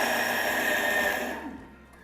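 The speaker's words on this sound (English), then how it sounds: "this is a hybrid of a food processor and a Vitamix. It does stuff really, really quickly." A food processor-Vitamix hybrid blender grinds pecans, almonds and raw cacao with a loud, high whirring motor that runs steadily, then spins down and cuts off near the end.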